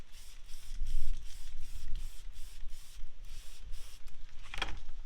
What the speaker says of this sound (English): You got that sprayed down.